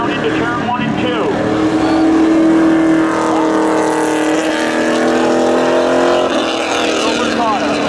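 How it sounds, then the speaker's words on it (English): A 1996 Chevy Camaro drag racing against another car at Seekonk Speedway, engines roaring loudly and continuously with rising and falling engine tones as the cars accelerate, and an announcer talking over the noise. "Matching up against Aaron Lynch, 1996 Chevy Camaro. Green flag in the air"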